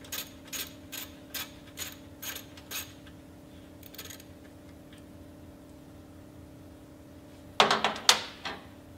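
A ratchet socket wrench on a 1/4-inch socket loosens a star bolt on a lowering bracket, giving a steady series of close, crisp ratcheting clicks. A metallic clatter follows a few seconds later.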